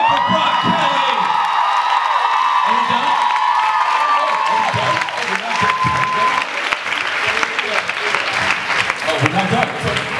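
Audience applause mixed with cheering and whoops at a live music event on stage, a loud sustained crowd roar with voices calling out throughout.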